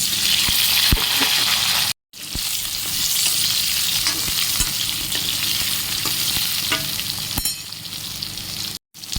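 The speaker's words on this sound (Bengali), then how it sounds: "ডিম ভাজার পর ওই তেলেতে আমি আলুগুলো ভেজে নেবো।" Potatoes fry in a wok of oil left from frying eggs, giving a steady loud sizzle with occasional stirring clicks and two abrupt brief silences.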